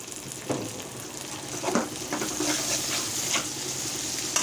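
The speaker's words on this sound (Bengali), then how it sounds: "এখন আমরা পেঁয়াজ কুচিটা আর কাঁচামরিচ কুচিটা দিয়ে দিব।" Chopped onion and green chili fry in hot oil in a pan, giving a steady, loud sizzle with occasional stirring scrapes and crackles throughout, and no voices.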